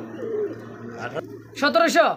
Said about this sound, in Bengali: চমৎকার একজোড়া মিশরি বড় পায়রা